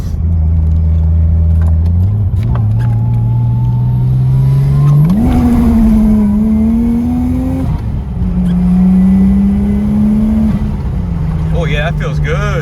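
Engine of a Japanese car revving hard and loud for about twelve seconds, its pitch climbing, holding and dipping through several surges as the wheels spin briefly on a wet road, close and continuous.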